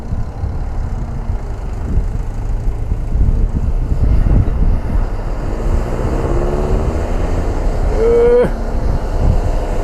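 Strong outdoor wind buffets the microphone in a loud, continuous rumbling roar, with a brief higher whine rising near the end.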